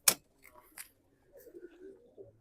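Racing pigeons coo softly and intermittently nearby, a few low, rolling calls after a sharp initial click, in a quiet setting.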